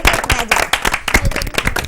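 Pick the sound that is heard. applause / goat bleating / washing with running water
applause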